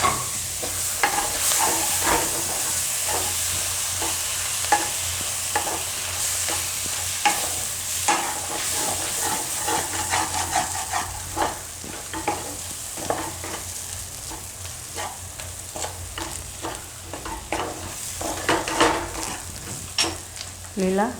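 Fenugreek leaves, with peas and gram flour, fry in a pan on low heat, a steady close sizzle broken by frequent scraping stirs and utensil knocks throughout.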